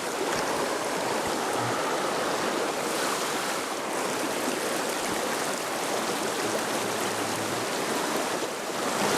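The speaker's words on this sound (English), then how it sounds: "I've got a small little creek like that." A small creek in Victoria flows steadily, its continuous rushing and babbling water filling the scene with an even, close wash of sound and no voices.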